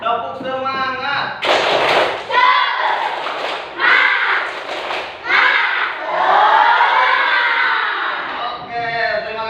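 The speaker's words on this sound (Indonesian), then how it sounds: "Kita lakukan tepuk semangat, siap?" A classroom of students performs a rhythmic clap-and-chant cheer, shouted voices punctuated by sharp bursts of clapping and thumps, with a teacher's voice leading at the start and end.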